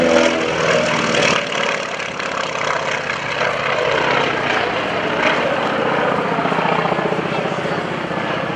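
FM-2 Wildcat, a General Motors-built World War II propeller fighter, flying at the NAS Oceana airshow, with a loud continuous engine and propeller roar that holds steady throughout.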